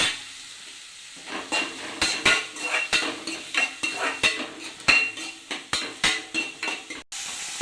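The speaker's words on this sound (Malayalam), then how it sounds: "നമുക്ക് ചെറിയ ഉള്ളി ഇട്ട് കൊടുക്കാം. ഇളക്കി കൊടുക്കാം." Small onions (shallots) being stirred in a hot cooking pan, a rhythmic series of metal spoon scrapes and clanks repeating roughly twice a second over a light sizzle, close and fairly loud, with no talking.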